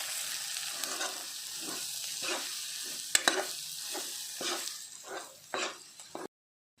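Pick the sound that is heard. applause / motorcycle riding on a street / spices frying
spices frying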